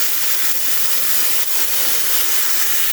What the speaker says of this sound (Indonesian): Terus aku mau masukin bawang bombay. Ditumis sampai wangi.